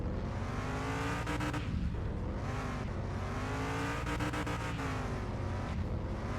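Car engine in the game Rivited, revving continuously with rising and falling pitch sweeps and a few sharp clattering bursts, moderately quiet and alone without speech.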